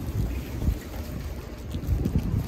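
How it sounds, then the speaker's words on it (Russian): Outdoor rain during a walk with a corgi: a steady, soft wash of rainfall and wind noise buffeting the microphone, with low rumbling gusts throughout and no voices. "На улице дождик."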